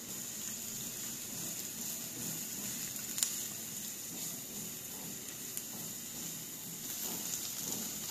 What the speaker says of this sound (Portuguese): a gente vai dar uma leve fritada aqui nesses dois ingredientes